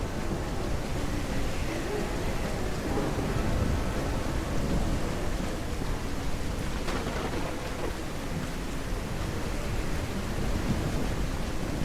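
Storm in the survival game Beyond Hanwell, heard as a dense, steady roar of heavy rain and wind with low rumbling underneath, constant and fairly loud throughout with no clear pauses.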